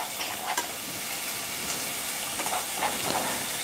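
Chopped onion hisses and sizzles continuously in a hot pan while cooking arroz caldo, with a soft steady frying crackle and a few faint stirring sounds.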